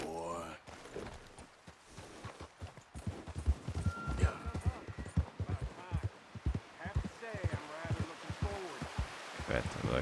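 Horse hooves clip-clop along steadily in Red Dead Redemption 2, a rhythmic series of soft thuds heard under someone speaking.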